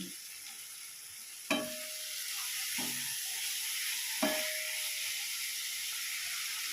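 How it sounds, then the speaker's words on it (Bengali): Spice masala with turmeric and salt fries in a pan, a steady soft sizzle and hiss with a few sharp stirring knocks and scrapes against the pan, close and without talk. "এবার আমি 5 মিনিট মশলাটাকে ভালো করে কষিয়ে নেব।"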